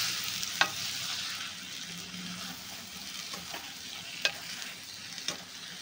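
Stuffed okra (bharli bhindi) gently stir-fried in a pan, giving a soft continuous sizzle with a few sharp clicks of a spatula scraping the pan.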